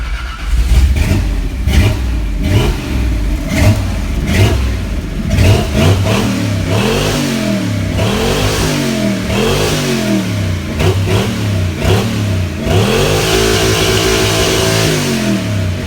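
Gasifier truck engine running on gasoline after a sooty carburetor was cleaned, loud and close, revved repeatedly in rising and falling surges, then settling into a steadier higher drone near the end.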